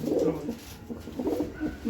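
Red China pigeons coo in a low, rolling rhythm, a couple of close, fairly loud phrases rising and falling across the short stretch with no talk over them.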